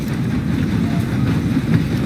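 Train rumbling along in Red Dead Redemption 2, a steady dense low-frequency roar with faint rattling, loud and continuous throughout with no talk.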